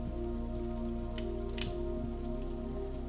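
Steady rain falls on a wooden cabin in the woods at night, a constant soft wash with a few brief louder drips and taps, alone and unchanging.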